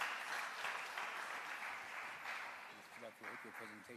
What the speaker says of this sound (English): Please, a round of applause, Simbarashe.